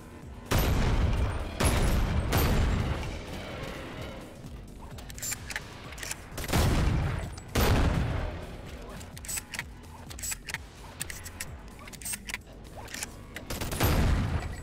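Automatic shotgun firing in a video game, heavy blasts sounding in several loud bursts spread across the span with quieter clatter between them and some speech mixed in.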